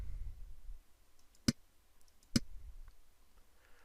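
Computer mouse clicks while editing an exercise in Fieldscapes software: two sharp, close clicks about a second apart in a quiet room.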